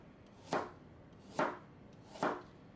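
Three evenly spaced knife chops through carrots onto a cutting board, crisp and close, each a short sharp thud with quiet between, no speech.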